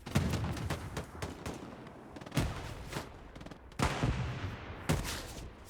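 Bursts of gunfire from a machine gunner in the World War II shooter Hell Let Loose, several rapid clusters of sharp reports at moderate distance over a busy battlefield, with no talk.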